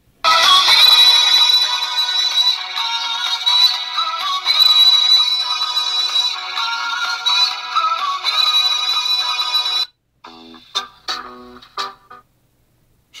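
Custom iPhone ringtone playing a song, a bright electronic melody ringing loud and close for about ten seconds before cutting off, followed by a few light taps.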